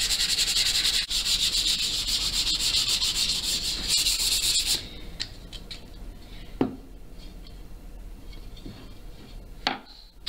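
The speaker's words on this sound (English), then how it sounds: "I'm only gonna sand and varnish the back side of the rim. All you need is like 320 grit sandpaper." Brisk, close back-and-forth rasp of 320 grit sandpaper on the back side of a wooden banjo rim, steady for about five seconds, then quieter scattered rubs and a few knocks.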